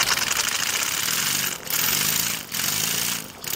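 A Chiltern model steam horizontal mill engine runs close by on steam, giving a continuous hissing, rapid chuffing with a regular rhythm that briefly dips twice, and no voices.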